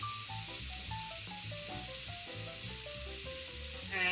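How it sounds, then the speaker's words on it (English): Raw Argentinian red shrimp or other ingredients sizzle steadily in a pan, cooking until well done and starting to crisp, a constant close frying hiss with soft background music and no talk. "we're going to cook this till it's well cooked and just starting to get crispy"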